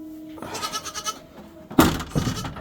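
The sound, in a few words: goat bleating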